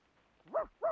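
A dog barking in the video game Reverse: 1999, two short, clear barks in quick succession, fairly close and alone.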